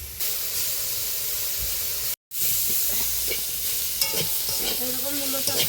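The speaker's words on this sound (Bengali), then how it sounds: "এখানে শাক ভাজা চলছে" Leafy radish greens fry in a pan with a steady hiss and sizzle while being stirred, scraping and clinking of the utensil coming through, close and moderately loud, with a brief dropout midway.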